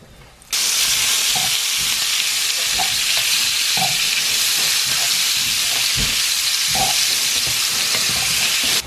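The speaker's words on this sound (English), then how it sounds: "let that heat up, and then we are going to brown off our beef" Beef browns in hot vegetable oil in a pan with a loud, continuous sizzle and hiss, broken by occasional stirring clinks, with no talking.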